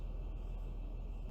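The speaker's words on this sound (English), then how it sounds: "always some truck" A truck rumbles past outside, heard indoors as a faint, steady low drone that stays even for the whole moment with no talking.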